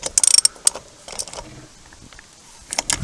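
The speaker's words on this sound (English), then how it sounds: "So we're going to start off by loosening these lug nuts." A ratchet wrench loosening 17mm lug nuts on an ATV wheel, with quick bursts of clicking and metallic rattles up close, a quieter stretch of light clinks in the middle, then another rapid ratcheting run at the end.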